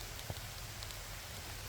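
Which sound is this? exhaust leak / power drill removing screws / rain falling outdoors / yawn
rain falling outdoors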